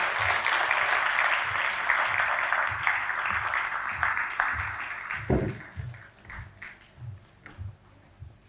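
Audience applause at a formal annual cultural event as a guest is invited onto the stage, sustained clapping from a crowd that thins toward the end into a few scattered claps.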